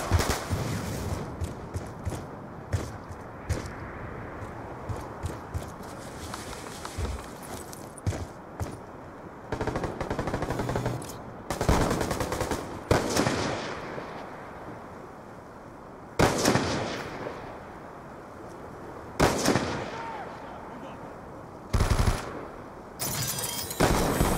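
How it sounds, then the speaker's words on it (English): A sentry gun fires in Black Ops 2: rapid automatic bursts, some long and some short, separated by quieter gaps, with scattered single shots and a few sharp loud blasts spread over the clip. "Sentry gun ready for deployment"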